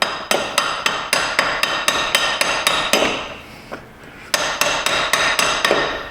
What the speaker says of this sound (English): let's see if we get a little better signal for tapping on it back here on an intake bolt